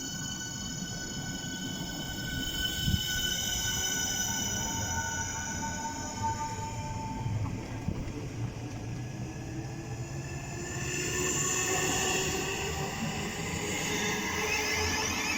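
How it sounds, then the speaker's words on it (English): A South Eastern train departs Greenwich station, its motors whining in layered rising tones over a steady rumble that swells louder toward the end, with no talking. "off goes the South Eastern service to the Green"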